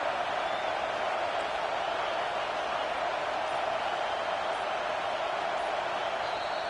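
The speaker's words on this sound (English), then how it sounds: "Decibels rising as the crowd gets behind this defense on 3rd down" A stadium crowd in College Football 25 roars on third down, a dense, steady wall of cheering held at an even level throughout, with no distinct voices standing out.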